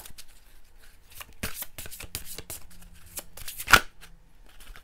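A deck of cards being shuffled up close, with rapid riffling bursts and soft slides through the middle and a sharp loud snap near the end; no talking.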